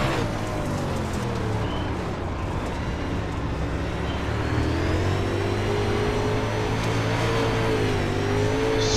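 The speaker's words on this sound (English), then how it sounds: "Much wheel spin getting out of the corner that time." A DIRTcar UMP Modified race car in iRacing at Williams Grove Speedway roars through acceleration with wheel spin out of a corner, the engine pitch rising and falling, loud and close with no speech.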